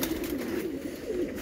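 Pigeons in a loft at sunset give low, continuous cooing, a steady murmuring drone with no voices over it.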